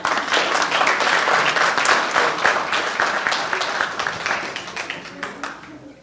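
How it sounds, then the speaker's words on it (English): Audience at a fundraising event breaks into sustained applause, many hands clapping densely and loudly, slowly tapering off toward the end. "I want everyone to give a round of applause to Mr."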